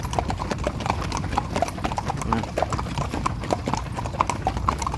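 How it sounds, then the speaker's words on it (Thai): Horse hooves clip-clop at a steady walking pace, several animals stepping together, with soft background noise and a faint voice now and then. "วันนี้ขี่ม้าเดินรอบโครงการ"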